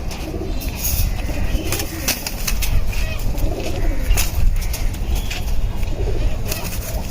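Homing pigeons at a home loft coo in overlapping low murmurs amid constant rustling, scratching and flutter, with sharp clicks and scuffs scattered throughout, close and fairly loud.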